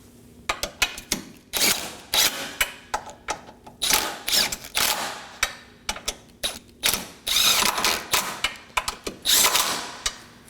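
Bolts for a bumper reinforcement bar on a 2018-2024 Chevrolet Equinox being snugged down with a power tool: a string of short, sharp mechanical bursts with ratcheting clicks, repeated rhythmically at close range with no talking.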